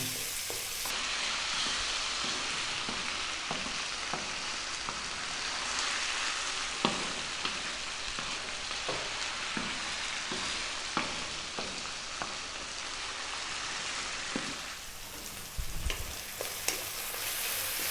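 Small chicken cubes stir-frying over high heat for Thai chicken fried rice, a continuous close sizzle with regular scraping and tapping from stirring, ending in a few louder clanks, no talk.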